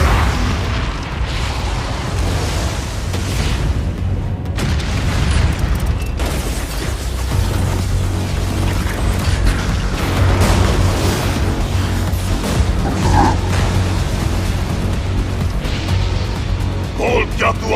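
A dragon fire attack explosion in a Solo Leveling Season 2 anime fight: heavy booming blasts and eruptive rumbling surge repeatedly over a long stretch, loud and dense, layered with music and effects.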